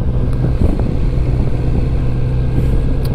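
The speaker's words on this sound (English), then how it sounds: "it's not just the sound of the exhaust that's great on this bike, it's also that intake noise, which is fantastic" A Kawasaki Z900RS motorcycle runs with a steady, loud, close engine drone mixing exhaust and intake noise, holding an even note without revving.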